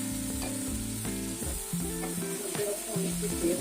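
Mutton for a one-kilo karahi sizzles and fries in oil over a high flame, a steady close crackle throughout with no talking.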